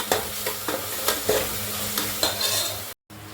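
Ground turmeric, cinnamon, cloves and sambar powder are stirred in a hot pan, giving a continuous sizzle broken by rhythmic scraping strokes of a spoon, close and clear, with a brief dropout near the end.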